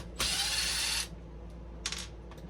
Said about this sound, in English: I'm gonna go ahead and pull those screws out as well for the step mounts.